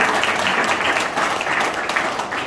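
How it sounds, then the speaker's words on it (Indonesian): An audience claps steadily at an Indonesian Scout Riders anniversary celebration, a dense, continuous wash of applause at even loudness throughout, with no voices standing out. "Tepuk tangan dong."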